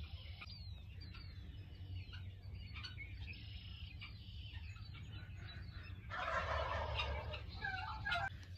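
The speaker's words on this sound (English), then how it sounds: "I bet you we have 30 turkeys in the field next to us." Wild turkeys gobbling in a field, about thirty birds, their repeated gobbles overlapping as a steady outdoor chorus that swells louder and busier near the end.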